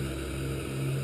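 Twin Otter turboprop engines running steadily in a flight simulator cockpit, a constant low drone with a strong tonal hum under a broad hiss, no talk.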